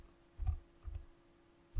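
Three separate clacks on a computer keyboard, spaced unevenly over under two seconds, close and quiet against a faint steady hum.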